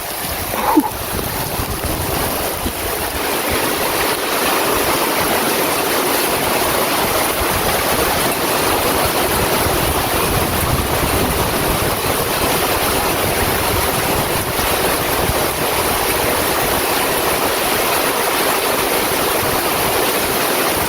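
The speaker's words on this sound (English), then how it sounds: "All the water from the driveway here will slant down all the way, and it'll end up, see it starting to go down the swell" Rainwater running off a driveway and down a grassy swale toward a pond on an off-grid homestead, a steady broad rushing wash that holds level throughout without talk.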